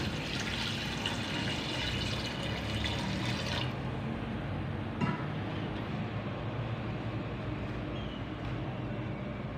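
About three glasses of water gush steadily into a pot of potato and meat curry, a rushing pour that stops after a few seconds, leaving a low background hum.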